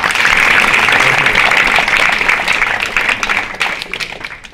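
An audience at a Nantes startup talk event claps to welcome a speaker, dense and loud at first, then thinning into scattered individual claps as it fades out.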